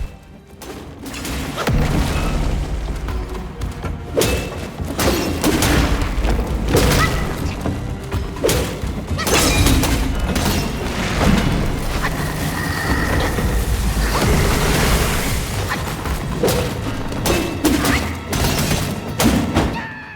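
Heavy slams and booming impacts land again and again in a Black Myth: Wukong boss fight, loud and close, with crackling lightning attacks mixed into a dense layer of combat noise.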